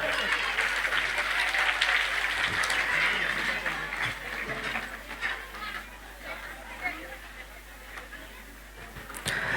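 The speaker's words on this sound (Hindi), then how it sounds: "हाथ उठा के एक बार जोरदार ताली" Audience at a school annual function in a Chhattisgarh village claps loudly and steadily for nearly ten seconds, a dense sustained patter with chatter mixed in that eases slightly toward the end.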